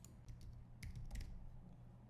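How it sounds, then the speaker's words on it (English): Quick, quiet clicking of a computer keyboard, a short burst of keystrokes close by with no talking over it. "So I'm just typing in wedding here"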